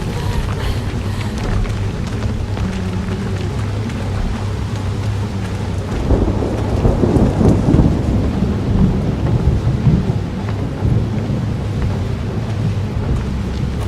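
Heavy rain hisses steadily while a deep thunder rumble swells midway and rolls on, loud and close, in the Outlast 2 storm.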